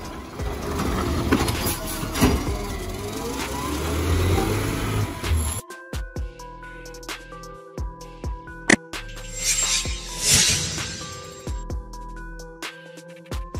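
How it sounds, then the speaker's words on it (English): A garbage truck engine, loud and steady for about five seconds, then cutting to quieter mechanical clanks, thuds and hydraulic whirs with a hissing burst partway through. "Garbage truck."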